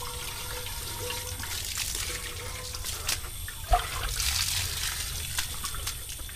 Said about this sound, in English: so we're going to have to rinse all that out